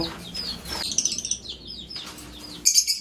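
Pet cockatiels chirp in short, bright, repeated calls, loud and near, coming in quick clusters with brief pauses.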